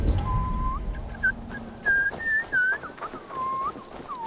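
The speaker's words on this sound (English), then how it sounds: "That is a loud ass whistle." A loud, shrill whistle in the video game Assassin's Creed Valhalla sounds in a string of short rising and falling notes, with gaps between them, then one longer sweeping tone near the end.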